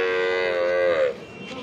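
A cow at the Railbazar cattle market lets out a single loud, drawn-out moo lasting about a second, then fades into low market background noise.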